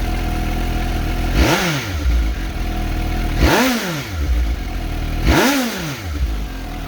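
A 2020 Suzuki GSX-S750 motorcycle engine idles close by, revved three times in evenly spaced blips that rise and fall back to a steady idle.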